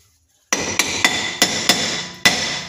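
Light wood-handled hammer striking a stuck rear brake drum: six sharp metallic knocks, spaced unevenly after a brief silence, each ringing and decaying quickly, close and loud with no talking.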